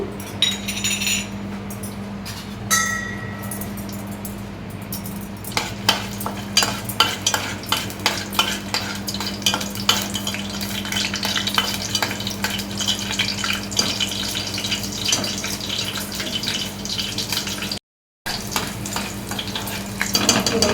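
Garlic fries in oil in a pan for a Telugu chana dal and coconut curry tempering. A spoon scrapes in a quick, busy rhythm of close clinks over steady sizzling, with a short break partway through.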